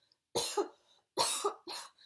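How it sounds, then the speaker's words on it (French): Three short coughs close to the microphone, the first two evenly spaced and the last quicker, with silence around them. "je tousse un peu aussi"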